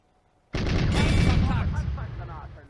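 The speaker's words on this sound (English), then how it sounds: "He quickly draws fire. A T-60 light tank with a 2 cm autocannon, sitting on the main road." A T-60 light tank's 2 cm autocannon fires on a main road in the Eastern Front war game Firefight, starting with a sudden loud blast that rumbles on for about two seconds before fading.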